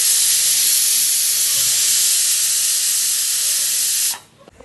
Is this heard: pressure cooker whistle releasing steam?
yes